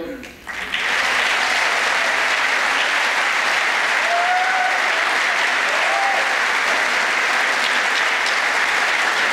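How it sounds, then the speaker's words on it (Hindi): A large crowd bursts into loud, sustained applause for Dalit Dastak at its five-year anniversary event, building quickly after a brief voice and holding dense and even throughout, with faint voices mixed in. "जरा दलित दस्तक के लिए भी देखते कैसी ताली बजाते हो।"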